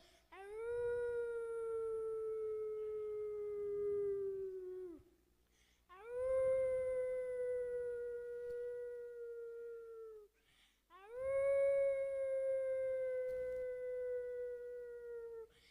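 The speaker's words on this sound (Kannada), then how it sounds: "ರಾತ್ರಿ ಆಗುವಾಗ ನರಿ ಬಂದು ಹೀಗೆ ಕೂಗುತ್ತಿತ್ತು" A jackal gives three long, drawn-out howls at night, each held for several seconds with a pause before the next, clear and unaccompanied.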